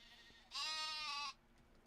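A goat or sheep bleats once in Medieval Dynasty, a clear, wavering cry of just under a second rising out of a quiet farmyard background, with no talking over it.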